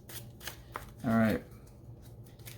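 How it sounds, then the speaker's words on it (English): A deck of playing cards is riffle-shuffled during a Marvel Champions-style card game session, one quick, close burst of fluttering card snaps lasting a moment, with someone speaking briefly before it over low room noise. "I'm shuffling up."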